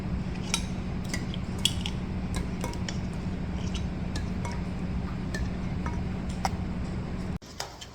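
Metal canning jar lids and rings clink sparsely in a pot of hot water while making homemade tomato sauce, light scattered taps over a steady low kitchen hum.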